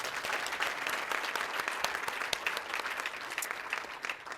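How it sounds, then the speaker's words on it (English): Dense, sustained clapping from a large audience fills a celebratory graduation ceremony, loud and even throughout with no voices on top. "One more round of applause, please."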